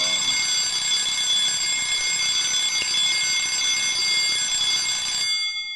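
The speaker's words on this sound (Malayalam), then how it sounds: "ഇതാരാ 3:00 അലാറം വെച്ചത്?" A three o'clock alarm rings in a steady, loud, continuous electronic tone, then cuts off abruptly.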